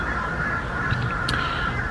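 Crows cawing loudly outdoors, a few harsh calls standing out briefly over a steady hiss of outdoor background noise.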